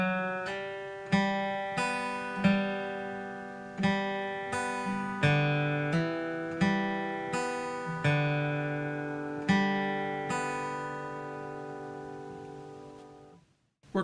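Fingerstyle acoustic guitar passage with hammer-ons, a steady series of plucked notes and bass tones ringing clearly one after another at a moderate pace, played alone and fairly quietly, ending with a soft thump.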